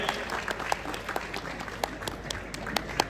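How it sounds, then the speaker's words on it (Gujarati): Audience at an award ceremony for teachers applauds steadily, a dense wash of clapping with sharper individual claps standing out, moderately close, while a voice talks faintly beneath. "આપણે સૌ તાળીઓના જોરદાર ગડગડાટથી તેમને વધાવીએ."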